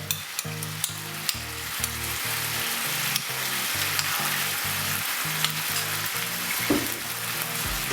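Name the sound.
Sichuan prawn stir fry sauce sizzling in the pan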